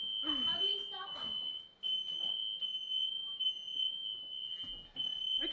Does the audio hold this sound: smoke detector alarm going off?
yes